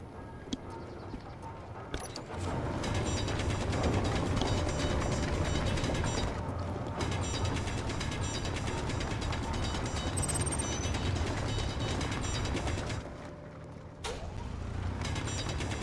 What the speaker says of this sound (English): that'll be welded up by the machine